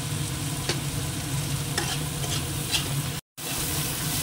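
Steady sizzling of onions frying in a pan, with occasional scraping strokes of a spoon stirring, continuous and close, broken by a brief silent gap.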